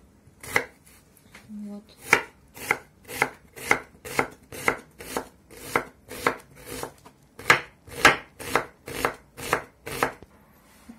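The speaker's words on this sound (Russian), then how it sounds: "Я вот пополам луковичку, потом вот такими полосочками." An onion cut into strips with a knife, crisp regular chops striking a board about twice per second, close and clear, with a brief word spoken near the start.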